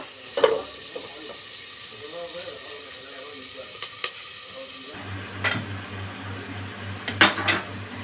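Okra frying in a pan for a yogurt-style bhindi dish, with clinks and scrapes of utensils against the pan over a low background hiss and a steady hum in the second half.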